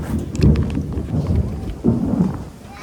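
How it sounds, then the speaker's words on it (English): An outdoor thunderstorm with heavy rain, where deep rolling thunder rumbles swell and fade twice over a steady wash of falling rain, close and fairly loud. "Holy thunder. Oh my gosh. Here comes the rain."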